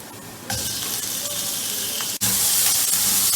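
Chicken pieces drop into a pan of fried ginger for Thai soup, setting off a broad hissing sizzle that swells after a soft start, with a brief dip and a louder burst of steam.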